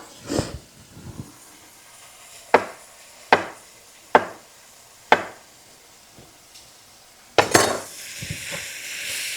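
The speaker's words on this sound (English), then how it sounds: "We'll give this a little quick stir here." A quick stir of food in a pan while making a French dip sandwich ring: about five sharp, evenly spaced utensil knocks and scrapes against the pan, then a longer, louder scraping stir under a faint background sizzle.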